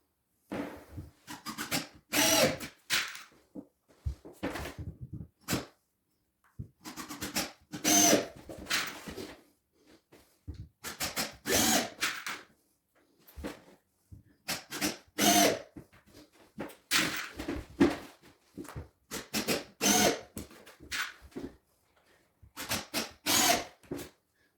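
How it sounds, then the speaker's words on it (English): A power drill drives screws into a floor being prepared for laminate flooring, a series of about a dozen loud, close whirring bursts, each a few seconds long, separated by short pauses. "I'm going to be putting the screws where all the nails are"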